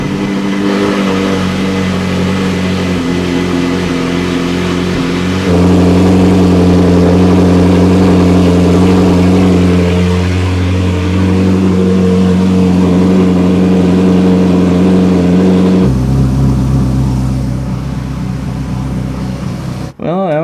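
A Ferrari 458 with an oil leak idles steadily and loudly up close, its engine note rising into a sustained rev in the middle before dropping back to a lower idle near the end.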